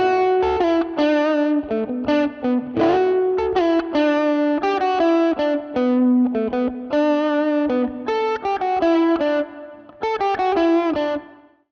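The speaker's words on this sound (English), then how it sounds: "So now I'm gonna start sweeping our clean blend potentiometer towards the effect side." An electric guitar runs through a DIY RAT distortion pedal fitted with a clean blend control, played as a steady run of picked notes and chords while the blend is swept toward the effect side, giving a light overdriven edge over clear tones.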